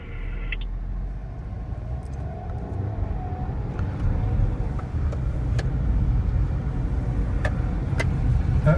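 Renault Duster SUV driving hard around an F1 track in an autocross event, a steady engine and road rumble heard from inside the cabin, slightly louder in the second half, with no talking.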